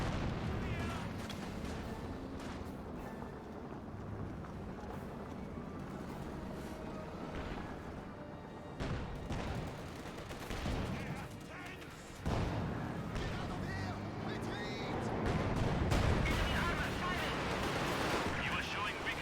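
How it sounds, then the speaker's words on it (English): Katyusha rocket barrage in Company of Heroes 2 battle: a dense, continuous rumble of explosions and gunfire rolling through the whole stretch, with heavier booms swelling near the end, while a voice talks over it. "Katusha barrage eyeing for the MG42"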